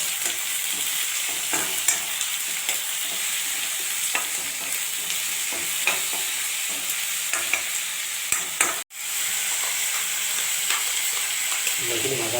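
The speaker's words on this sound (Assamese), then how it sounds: "বিলাহীখিনি ভাজি ল'ম ভালকৈ।" Tomatoes frying in a pan after browned onions, for a potato dum curry with peas: a loud, continuous close sizzle with scattered stirring clicks, steady throughout apart from one brief dropout late on.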